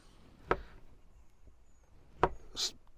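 A knife cuts through corned beef on a board in a campervan, giving two sharp, close slicing knocks about two seconds apart, followed by a soft scraping rasp, in otherwise quiet surroundings.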